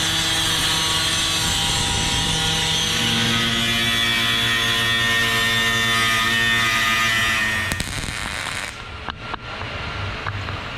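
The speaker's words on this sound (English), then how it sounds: "Cutting it with a good old just regular cutting wheel." A grinder with a regular cutting wheel slicing metal in a custom car shop: a loud, steady high whine holds for several seconds, then drops away into rougher, uneven rumbling and clanks.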